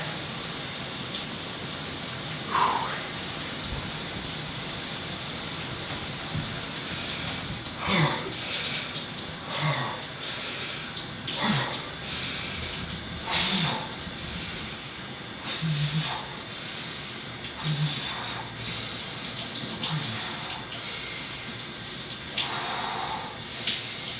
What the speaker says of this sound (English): Now time for my freezing shower.